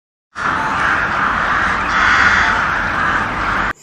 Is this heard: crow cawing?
yes